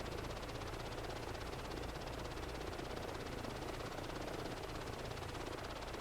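A helicopter flies steadily in Microsoft Flight Simulator 2024 over the island scenery of Jurassic Park's Site B, its rotor and engine making a constant, even roar without a break.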